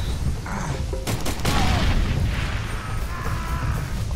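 Grenade blasts in the Far Cry 2 video game, several muffled booms and crackling bursts in quick succession over a continuous loud rumble of gunfire and battle noise.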